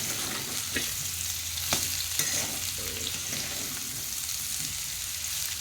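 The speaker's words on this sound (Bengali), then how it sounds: "আমি আলুটাকে কষাই করে নিচ্ছি ঘুগনি বানাবো কাবলি ছোলার" Potatoes sauté in oil for chickpea ghugni, a continuous close sizzle with a few sharp stirring scrapes early on, no voices.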